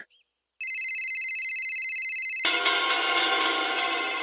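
An electronic phone ringtone starts with a steady, sustained tone, then switches to a louder, fuller melodic ring that continues.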